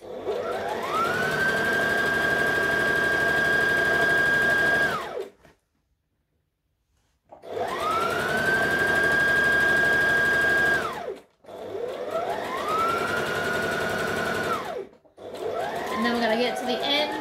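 A sewing machine stitches seams in three long steady runs of about four to five seconds each, separated by brief pauses, loud and close, with a motor whine that rises and settles each time.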